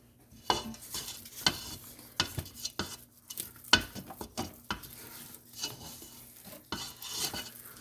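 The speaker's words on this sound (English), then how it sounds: "Scrape down one more time" Spatula scraping down the sides of a mixing bowl of Napoleon pastry filling, a series of soft, close scrapes and dull taps at an uneven pace, fairly quiet with no talking.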